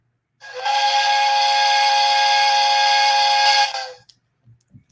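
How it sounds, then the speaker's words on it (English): A work whistle gives one long, loud, steady steam-whistle blast of several seconds, bright and tonal with a hissy edge, then cuts off into near silence with a few faint knocks; no one speaks. "It's the work whistle."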